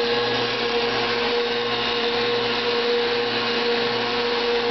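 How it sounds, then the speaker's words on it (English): A blender churning cream into butter whirs loudly and steadily with a constant motor drone, close by and uninterrupted, with no voices. "making butter in a blender"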